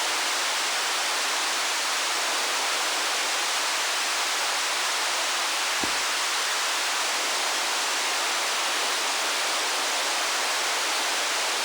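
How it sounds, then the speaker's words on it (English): Synthesized flowing water built from filtered noise in VCV Rack sounds like a steady, dense hiss resembling a rushing stream or waterfall, continuous and loud with a brief low thump midway. "hearing that movement makes it sound a little bit more natural, like flowing water"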